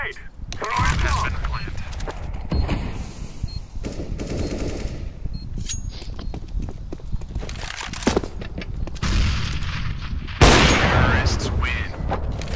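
A grenade is thrown and bursts loudly near the end of a shooter video game round involving terrorists and a bomb, amid sustained machine-gun fire and scattered gunshots, with voices talking throughout.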